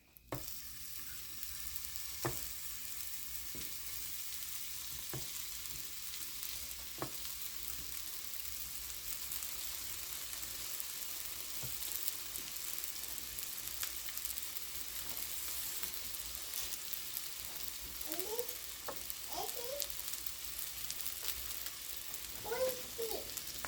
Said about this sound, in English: we've got a good enough sizzle going on here